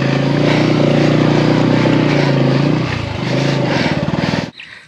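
A motorcycle engine runs steadily and loud, close by in a rice field, its droning note dipping briefly before rising again and then cutting off abruptly near the end.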